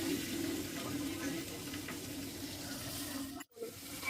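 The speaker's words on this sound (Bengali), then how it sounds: "মাছটা ভেজে নিই।" Katla fish pieces fry in hot oil in a home kitchen, a steady close hiss and sizzle running unbroken, with a brief dip near the end.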